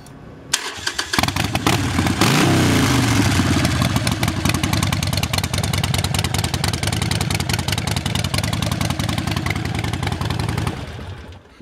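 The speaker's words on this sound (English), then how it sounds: "Let's fire this baby off and see what it sounds like with those Vance & Hines" A fuel-injected 2009 Harley-Davidson Nightster 1200 with Vance & Hines exhaust starts up and settles into a loud, close, lumpy idle that runs steadily before cutting off.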